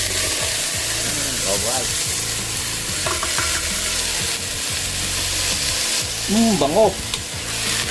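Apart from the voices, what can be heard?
wild chicken (labuyo) meat frying with onion and chili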